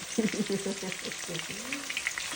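Steady crackling sizzle of onions frying in hot oil for jollof rice, close and fairly quiet, with faint voice-like murmurs in the background.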